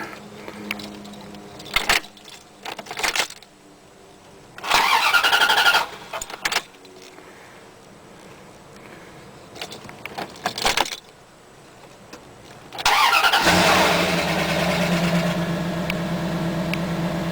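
A Dodge Dakota, just fitted with a new fuel pump, is keyed and cranked: keys jingle and click in the ignition, short bursts of starter cranking follow, then the engine catches and settles into a steady, loud, close idle.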